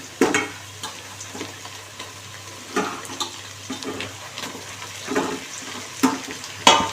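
Mint, coriander and onions being sautéed in a pan for mutton biryani give a soft background sizzle, broken by repeated scraping stirs that come in irregular bursts, close and fairly loud.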